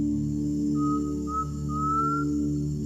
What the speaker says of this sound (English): The clear whistled song of the undulated tinamou is a characteristic early morning sound